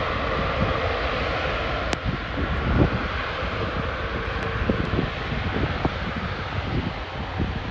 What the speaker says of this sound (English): Look at that wide body plane. So big. With those huge engines.